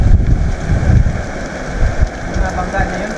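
Strong wind roars and buffets the microphone of a bicycle coasting without pedaling on a long ride, a continuous loud low rumble with gusty swells throughout.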